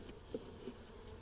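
Bees buzz as a faint, steady drone in a short quiet stretch, with no voices present.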